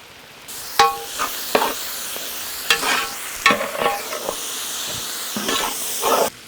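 Vegetables stir-fried over a high flame hiss and sizzle loudly, with scraping stir strokes at irregular intervals throughout.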